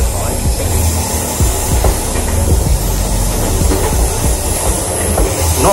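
A sleeper train runs on rails in Vietnam between Nam Dinh and Vinh, heard loudly from inside as a dense continuous rumble with rhythmic wheel clacks and a steady hiss.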